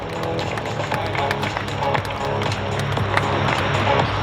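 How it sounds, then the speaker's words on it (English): Crowd applause at the Australian International Airshow, a dense, steady outdoor clapping that holds evenly for several seconds. "give them a big round of applause"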